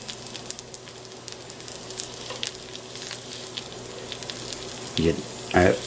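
Meat patties for Salisbury steak sizzle and fry in a hot skillet, a steady crackling hiss with scattered pops, followed by a couple of louder clattering or scraping moments near the end.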